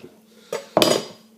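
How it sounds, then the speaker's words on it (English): Two sharp knife strikes on a kitchen worktop while chopping food, a lighter tap followed by a louder, harder chop, close and with no talk. "I shouldn't really be chopping this on the worktop, but I'm being careful."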